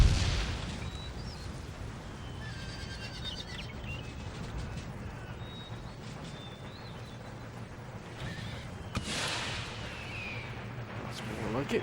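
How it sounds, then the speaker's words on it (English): Musket volleys crackle across a battlefield in Empire Total War, a dense, continuous wash of distant gunfire and booming, with horse whinnies and scattered sharper shots rising now and then. "That's an accurate shooting there."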